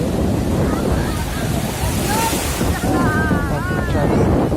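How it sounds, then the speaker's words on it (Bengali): Strong sea waves crash and surge continuously at Digha beach on a busy morning, a dense roar with wind buffeting the microphone and faint voices of bathers in the background. "দেখো কি ঢেউ প্রচণ্ড"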